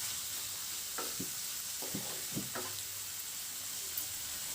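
Soybean chunks sautéing with turmeric, chilli powder and chicken masala: a soft, low sizzle with a few scraping spoon strokes, fairly quiet and close.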